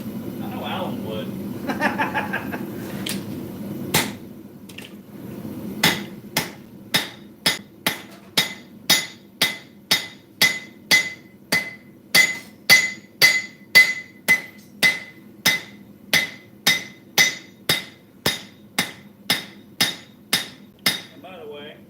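A small peening hammer strikes a metal garden rose about thirty times in a steady, evenly spaced rhythm. Each close, ringing hit has a bright metallic tone, with a few voices chatting briefly at the start.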